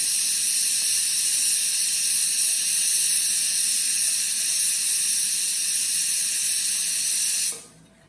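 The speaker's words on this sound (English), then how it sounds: "The cooker is going off of the dal." A pressure cooker holding dal lets off steam in one loud, continuous, close hiss that runs for about seven seconds and then dies away abruptly.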